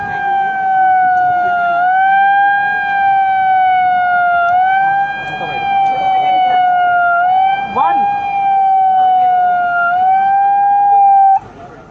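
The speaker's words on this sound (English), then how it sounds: "the siren has gone off, which means the train is coming" A Kavach train anti-collision system siren wails steadily and loudly for the whole stretch, a continuous tone rising and falling slightly every couple of seconds, with faint background noise underneath.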